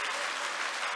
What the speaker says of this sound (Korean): 우리 이분들 그 두려움을 떨치게 해달라고 더 큰 박수로 격려하고 위로하겠습니다